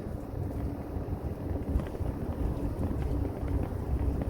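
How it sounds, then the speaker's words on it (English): A heavy Dodge truck rumbles past on a road through woods, a continuous low roar that builds slightly toward the end. "here comes another truck"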